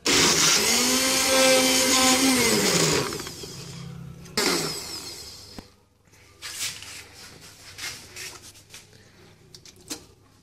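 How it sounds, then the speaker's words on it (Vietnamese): An electric blender grinds meat and shrimp, a loud close whirring roar that dips in pitch as it loads, stops, restarts briefly, then gives way to quieter scraping and handling sounds. "Và bây giờ chúng ta sẽ xay thịt và tôm."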